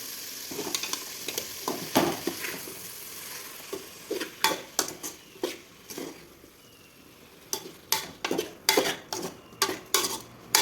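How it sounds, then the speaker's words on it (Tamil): A spoon stirs tomato rice with salt in a pan, making a series of close scraping and clinking strokes. They fall in irregular bursts that speed up toward the end, over a faint background sizzle. "உப்பு எல்லா இடத்துலையும் பரவுற மாதிரி கலக்கி விட்டுக்கலாம்"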